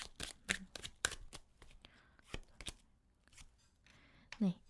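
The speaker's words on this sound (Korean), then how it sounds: "제가 카드 한 장 더 뽑아보면요" Tarot cards handled and drawn from a deck: crisp papery snaps and slides in quick bursts, close and quiet, with a voice speaking briefly near the end.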